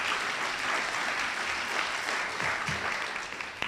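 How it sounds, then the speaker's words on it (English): An audience at a panel event on natural resource conflict mediation claps for the panelists, a steady burst of applause from many hands lasting a few seconds, somewhat distant and soft. "So just a quick round of applause for our panelists"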